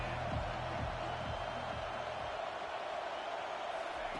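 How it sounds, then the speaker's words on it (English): Large crowd noise at a college football game between FSU and Alabama, a broad and steady roar from the stadium heard at a distance, with no clear bursts standing out. "This crowd bringing the energy and noise early."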